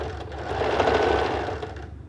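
A sewing machine stitches a frill onto a pair of shorts in one steady, close, rapid run of about two seconds, with no talk over it.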